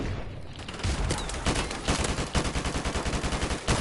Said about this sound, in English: An assault rifle, I thought it was a shotgun